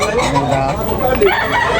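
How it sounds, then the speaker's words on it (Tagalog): Chickens cluck and squawk steadily amid a dense, noisy backdrop in Tabunok, Talisay, Cebu, with a rooster-like crow mixed in and murmuring voices underneath. "Manok."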